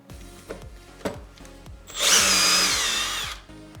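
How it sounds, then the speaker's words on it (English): A power drill draws a grip stud back out of a tire, giving a short, loud whirring burst after a few soft clicks and knocks, close by. "I'm gonna go ahead and draw the stud back out."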